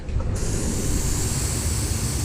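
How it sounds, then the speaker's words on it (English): A small Iwata snap-on airbrush gun sprays thinned black paint onto a cup in a steady, continuous close hiss, after a brief softer start, with no voices. "I thinned it down this morning so it would spray through the Iwata"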